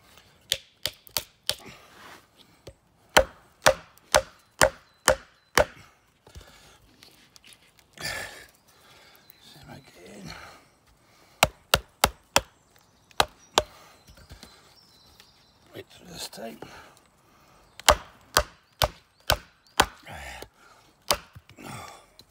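A knife batoned through wood in a hard bushcraft test: sharp, loud wooden knocks land in quick rhythmic runs of several strikes, separated by pauses filled with breathing and rustling, repeated across the stretch.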